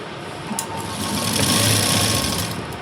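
A sewing machine runs a continuous line of stitching through a blouse lining cross strip, a loud, close, steady whirring buzz that swells slightly midway, with no talking over it.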